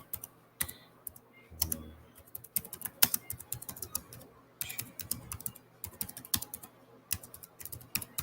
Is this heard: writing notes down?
yes